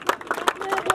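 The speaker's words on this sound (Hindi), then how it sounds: "एक बार जोरदार तालियां इस माता के लिए" A crowd at a youth group's welcome for a boxer named Tamanna claps in quick, regular beats, each clap standing out distinctly in a short burst of applause.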